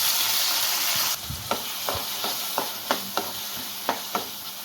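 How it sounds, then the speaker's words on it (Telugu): Chopped tomatoes fry in oil in a pan, a steady hiss that turns brighter as they go in, followed by a series of sharp spoon or spatula knocks against the pan at a loose, irregular rhythm. "ఆ తర్వాత అదే ప్యాన్లో ఇంకాస్త ఆయిల్ వేసుకొని టమాటాలను చిన్న చిన్న ముక్కలుగా కట్ చేసుకొని వేయించుకోవాలి."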